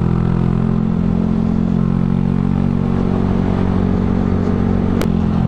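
A Honda Grom MSX125 motorcycle fitted with a cheap Chinese aftermarket exhaust idles steadily up close, a loud, even, buzzing drone with a brief click near the end.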